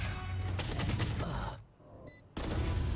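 Dense bursts of gunfire from Valorant during an esports playoff match, loud and rapid, with a brief lull in the middle before the shooting resumes.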